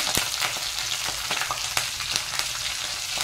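Green chillies, curry leaves and bay leaf sautéing in hot oil for Maharashtrian dal khichdi, a close, lively crackling sizzle broken by sharp spattering pops and a few spoon stirs, no talking.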